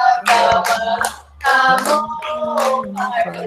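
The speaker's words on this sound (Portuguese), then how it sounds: "uma salva de palmas" Group of people clapping hands in a steady rhythm while singing a birthday song, loud and close, with voices singing over the claps and a short pause in the middle.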